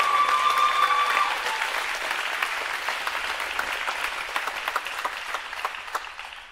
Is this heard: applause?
yes